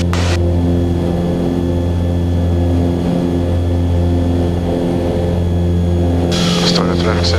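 Loud, steady engine drone with strong low harmonics holds throughout, a twin-engine propeller airplane taking off at full power, with a short crackle of radio near the end.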